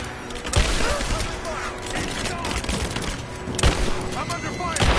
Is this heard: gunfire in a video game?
yes